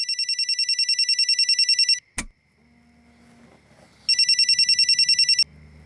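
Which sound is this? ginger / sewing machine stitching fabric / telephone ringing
telephone ringing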